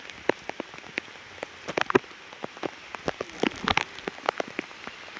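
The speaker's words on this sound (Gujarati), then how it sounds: "વરસાદ ફૂલ ચાલુ થઈ ગયો." Heavy rain falling in a jungle, irregular loud drops pattering and tapping on a nearby surface over a steady soft wash, no voices.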